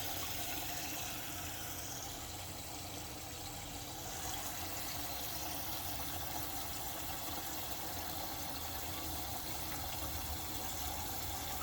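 Water flows steadily into a DIY Moeller bait tank fitted with a Surflo pump, a constant loud rushing hiss with a low pump hum and no talking.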